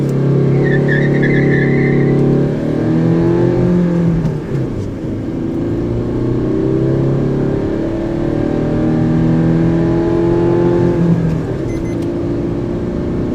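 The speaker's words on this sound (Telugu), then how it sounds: "మనం వెహికల్ ని 0 to 100కి ఎంతసేపట్లో రీచ్ అవుతుంది" A Maruti Suzuki S-Cross accelerates hard from standstill in a 0 to 100 km/h run, its engine note loud and close, rising steadily through the gears with brief dips at shifts and no talk.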